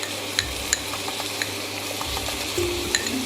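Garlic and ginger paste sizzling and spitting in a hot pan for a beef madras, a steady hiss broken by scattered crackles and a few clinks of a spoon stirring against the pan.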